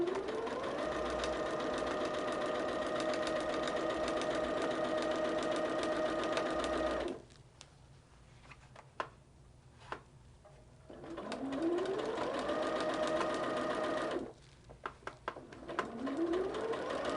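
A sewing machine stitching a quilt block, its motor humming and needle chattering steadily for several seconds, pausing into quiet shuffling and small clicks, then running again in two more stretches, close and clear.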